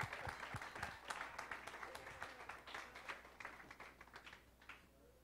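Applause from a church congregation during a pastor's sermon, a dense, steady patter of clapping hands filling the whole stretch, moderately loud and continuous without any speech over it.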